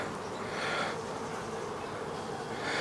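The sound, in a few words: honey bees buzzing during hive inspection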